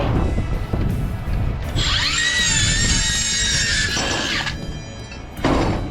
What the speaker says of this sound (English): So I bought this cordless metal saw a long time ago.